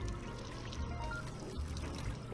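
Water runs from a sink in the Job Simulator VR kitchen game, a steady, faint pouring and trickling stream that continues without a break.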